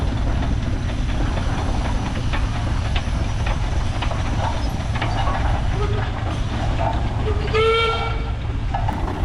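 Steam locomotive moving on rails, with a dense continuous rumble and clatter close by, faint voices in the background and a brief whistle near the end.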